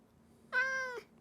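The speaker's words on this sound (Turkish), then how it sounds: "bir kedi sesi duydum sanki" A single clear cat meow in Minecraft, drawn out for about half a second, close and fairly loud against a quiet background.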